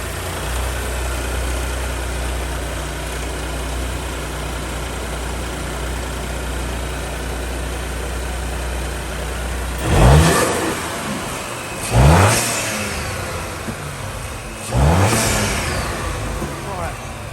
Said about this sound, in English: We're going to give it a little rev now